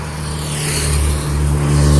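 A vehicle on a road near the Chandubi Festival sweeps past close by, its steady engine drone swelling loud with a rising whoosh over two seconds, with no voices.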